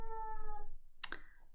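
A grown female cat gives a short meow, a drawn-out tonal call followed by a brief raspy burst, heard close and alone against a low background hum.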